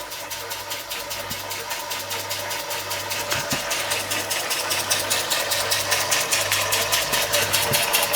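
A vintage American Weeden Model 123 model steam engine runs steadily, its fast, even chuffing beats continuing throughout at close range and rising slightly in loudness.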